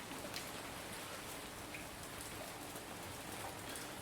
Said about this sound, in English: The sound of the rain pitter-pattering on the window is just